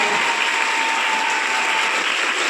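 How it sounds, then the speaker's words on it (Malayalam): A crowd at a school youth festival claps for a student, producing a steady, dense wash of applause that stays even in loudness throughout, with no voices standing out. "ഒരു കയ്യടി"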